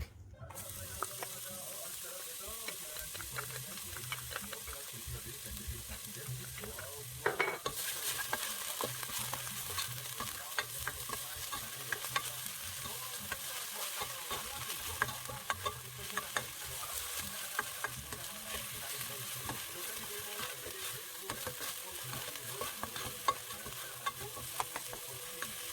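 Garlic fries in hot oil with a constant crackling sizzle, a sudden louder burst as it hits the pan, then steady spattering and occasional stirring scrapes, close up.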